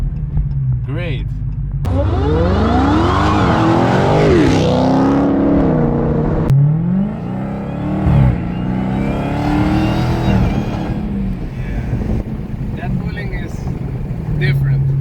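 Supercharged Dodge Challenger Hellcat on drag radials, driven on the road: loud engine revving through rising gear pulls with a steady whine on top, heard from inside the car, with people talking over it.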